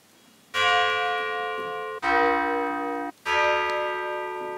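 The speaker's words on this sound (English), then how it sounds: "Let's take one which has inharmonic overtones, like this. So it's a bell." Bell tones with inharmonic overtones from a PPG Infinite synthesizer ring out in three separate sustained strikes, each a bright metallic chime with dense shimmering partials, loud and close with no talking.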